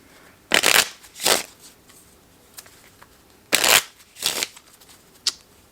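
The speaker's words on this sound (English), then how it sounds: "We will put the ace back in and shuffle for draw number 2." Cards are shuffled in quick riffling bursts, two pairs of crisp ruffles separated by a pause, close and fairly loud, with light taps between.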